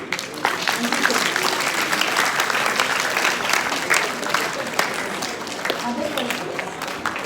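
Audience at the close of a masterclass bursts into sustained applause, a dense patter of many hands clapping steadily for several seconds in an indoor room, with a voice speaking over it.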